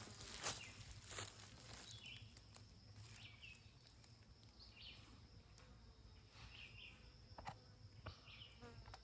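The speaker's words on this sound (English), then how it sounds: "I can hear a constant buzz above me, and I'm starting to see a ton of mosquitoes" Insects buzz in a faint, continuous drone around a hammock outdoors after rain, with occasional small close whines and ticks over a quiet natural background and no talking.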